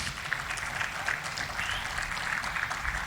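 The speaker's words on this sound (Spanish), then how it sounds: "Dele un aplauso al Señor." A church congregation applauding throughout, a dense steady clatter of many hands at moderate distance with a faint voice or murmur underneath.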